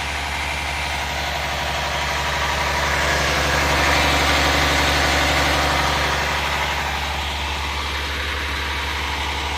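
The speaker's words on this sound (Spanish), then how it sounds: "Les muestro el motor, es un Cummins ISM de una cabina internacional." A Cummins ISM diesel engine in an International truck cab idles steadily at close range, a deep constant rumble with a faint, slightly uneven beat and no voices.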